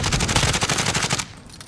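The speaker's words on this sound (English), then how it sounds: "Getting shot from left, and guy just jumped in right in front of Jack" Rapid automatic gunfire from a multiplayer shooter video game rattles loudly in a dense burst for about a second, then cuts off abruptly, leaving quieter background game noise.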